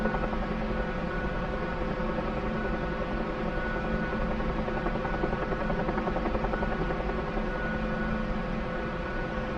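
A Huey helicopter's rotor and engine drone steadily and continuously, a dense, even whine and thrum with no breaks, heard from inside or close by.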